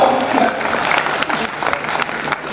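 Audience clapping at a Hindi comedy poetry gathering (kavi sammelan), a dense, steady wash of applause from a crowd, with some voices mixed in.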